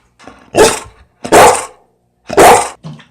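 Dog barking three times, loud and close, with evenly spaced sharp barks separated by short silences.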